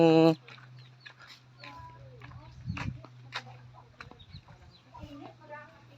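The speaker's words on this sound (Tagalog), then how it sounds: "Ayan na, nakahuli na pala guys ng manok oh." A freshly caught native Tagalog chicken on a farm in the Quezon province clucks in short scattered bursts, close by, under and between people talking, with one loud cry at the start.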